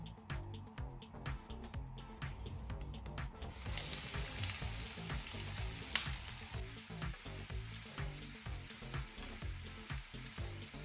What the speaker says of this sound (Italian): Appena sarà caldo, aggiungi tutte le cipolle bianche.